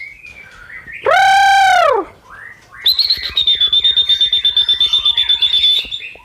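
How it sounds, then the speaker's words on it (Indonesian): White-rumped shamas: a loud, sweeping electronic-sounding call followed by a long run of rapid, repeated high bird chirps, close and continuous, with birds answering. "Bunyi burung ini"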